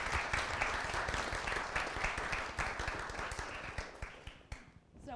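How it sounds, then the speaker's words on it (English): Audience applause fills a room at a university alumni panel session, a dense, steady wash of many hands clapping that thins out and tapers toward the end. "one more round of applause before our final question"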